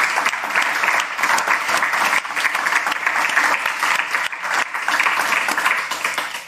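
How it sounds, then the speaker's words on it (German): Steady applause from an audience at a fifteenth-anniversary event, dense clapping holding at an even level from start to finish with no talk over it. "Ja, genau, ist ein Applaus wert, würde ich auch sagen."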